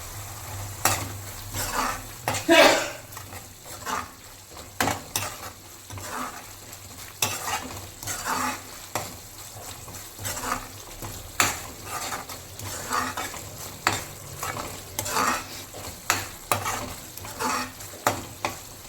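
Seven whole green chillies fry in Fortune oil for a fish curry, with a continuous soft sizzle broken by repeated stirring scrapes and light utensil clinks against the pan.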